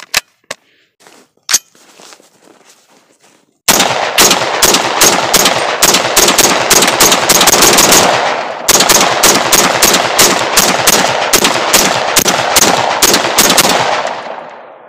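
An AR-15 rifle fires Barnes 120 grain all-copper rounds, a few scattered loud shots followed by long, rapid strings of sharp, evenly spaced reports with one short pause, close and loud outdoors.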